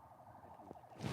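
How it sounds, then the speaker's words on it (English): A distant ambulance siren wails faintly in a rural Michigan area, its rising and falling tone thin and far off, with a louder noise bursting in at the end. "it sounds like to me as an ambulance"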